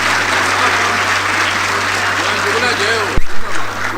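Audience applause at an Urdu mushaira poetry gathering, a steady dense clapping from a large crowd that fills most of the stretch, then cuts off sharply near the end as voices rise briefly.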